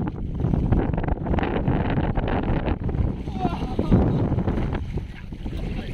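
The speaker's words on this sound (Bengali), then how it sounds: "হাওয়ার কারণে আওয়াজে হয়তো আপনারা শুনতে পাবেন না বন্ধুরা, বাইরে প্রচণ্ড হাওয়া।" Strong wind buffets the microphone on a river during a fishing trip, a loud continuous rushing roar with gusty swells that dominates the whole stretch, easing slightly toward the end.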